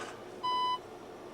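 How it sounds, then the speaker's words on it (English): A single short electronic beep from a car's parking sensors, clear and fairly close, over quiet background hum. "parking sensors, as you can hear, front and rear"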